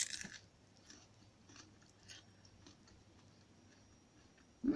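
Chewing freshly harvested artichoke in a taste test: quiet, close crunchy mouth sounds and soft bites repeating over a few seconds, with no talking.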